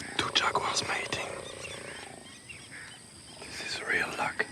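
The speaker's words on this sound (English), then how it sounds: "This is the sound of two jaguars mating." Two jaguars mating on a riverbank in the Pantanal produce rough growling roars, a cluster of calls near the start and another near the end, heard at moderate distance with a quiet voice underneath.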